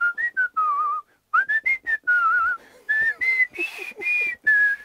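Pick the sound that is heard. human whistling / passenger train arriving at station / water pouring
human whistling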